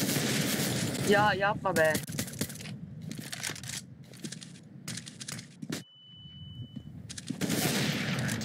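Pistol shots fire in Euro Truck Simulator 2 multiplayer as a series of sharp, rapid bursts with gaps between them, mixed with players talking over voice chat.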